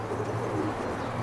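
Pigeons at a loft in Aigaleo give soft, low cooing against a busy outdoor background, a brief murmuring call heard at moderate distance without talk.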